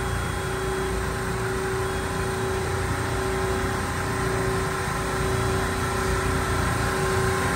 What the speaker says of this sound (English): All right, so we got compressor 3 running.